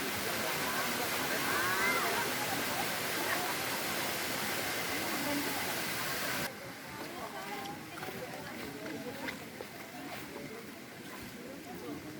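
Water flowing down from the mountain at a garden in Bulusan rushes steadily like a waterfall, a dense continuous roar that drops in level partway through, with voices faintly beneath.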